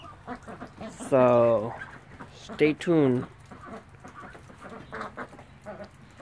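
Chickens at a farm cluck and squawk in several loud, close bursts, with quieter clucking around them and a person talking briefly.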